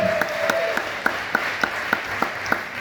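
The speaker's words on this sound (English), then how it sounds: "I'd ask that you hold your applause as we go" Applause fills a hall during a delegate roll-call vote on a constitution, a steady wash of many hands with a few sharper claps standing out at regular beats, moderately loud and continuous.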